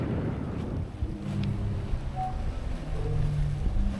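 Zadar Sea Organ on the Croatian waterfront, where waves pushing through pipes under stone steps produce steady breathy organ-like tones over a continuous wash of wind and surf.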